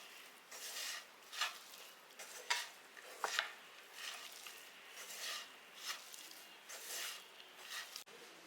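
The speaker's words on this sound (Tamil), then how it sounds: "இப்போ எல்லாத்தையும் சேர்த்து நல்லா பிணைஞ்சிருங்க" A spoon stirs and scrapes through a bowl of small shallots, tomato and salt being mixed together, soft rhythmic rubbing strokes with occasional light knocks against the vessel, close and quiet, with no talk.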